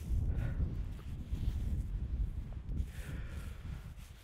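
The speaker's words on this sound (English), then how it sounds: "Last night was so windy" Strong wind buffets a snowshoe camp at night in Kosciuszko National Park, a low continuous rumbling roar with gusting surges and microphone buffeting, no voices.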